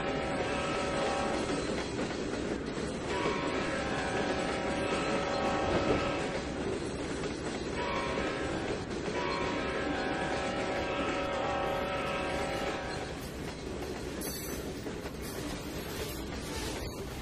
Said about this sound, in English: let's do the crossing here first